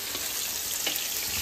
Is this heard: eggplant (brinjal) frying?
yes